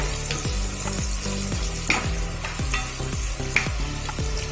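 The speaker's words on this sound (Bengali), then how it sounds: "এতে আমি পেঁয়াজগুলো লাল লাল করে একটু ভেজে তুলে রেখে দেব।" Onions frying over medium heat in a pan, a close steady sizzle broken by repeated rhythmic scrapes and knocks of stirring.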